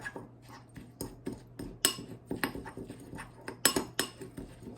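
Dry rub gets mixed into chicken wings in a bowl with a utensil, making a string of irregular clinks and scrapes against the dish at close range, some louder than others.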